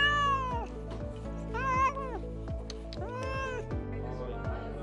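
A rescue cat at a large adoption event meows loudly and insistently several times in close succession, drawn-out plaintive cries near the listener with a faint murmur of voices behind.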